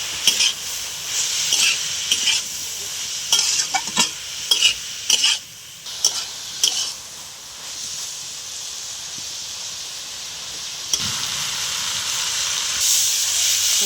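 Chowmein ingredients with egg and pasta fry in a pan under a loud, steady hiss, with sharp spatula scrapes and clanks in bursts during the first half, then continuous sizzling alone.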